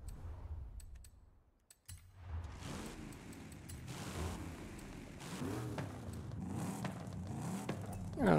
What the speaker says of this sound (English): That race exhaust sounds pretty cool.